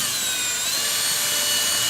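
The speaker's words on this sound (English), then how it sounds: "You hook it up to an 18-volt drill" A cordless 18-volt drill powering a greens harvester whirs steadily and continuously at close range, a bright sustained mechanical drone with no talking.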